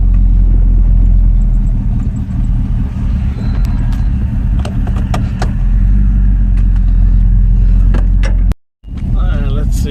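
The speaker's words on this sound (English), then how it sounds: "Every time I open up the throttle, it's really lean. It's backfiring." A Nissan D21 pickup fitted with a small-block Chevy V8 runs lean, its loud deep rumble filling the clip with sharp popping backfires, up close, briefly cutting out near the end.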